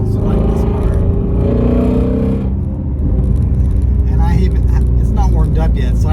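A flat-plane crank naturally aspirated V8, not yet warmed up, revs loudly and steadily up close with dense engine harmonics, and a person talks over the engine toward the end.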